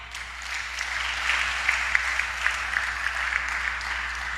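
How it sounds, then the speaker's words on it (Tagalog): A congregation applauding during a church sermon, a steady, moderately soft patter of clapping with a few sharper individual claps over a low hum. "Palakpak."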